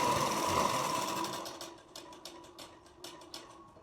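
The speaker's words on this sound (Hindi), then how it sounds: "देखो मैं ऐसे सिलाई कर रही हूँ" A sewing machine stitches the sides, armholes and hem of a princess-cut deep-neck blouse, running steadily at first and then breaking into short rhythmic bursts. It is close and moderately loud, with no talking.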